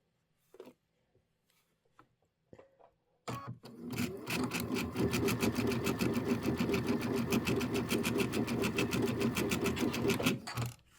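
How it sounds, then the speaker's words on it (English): After a few soft handling taps, a sewing machine stitching quilt pieces starts up and runs in a fast, even needle rhythm for about seven seconds, close and steady, then stops. "I'll sew a little bit off, just a little bit."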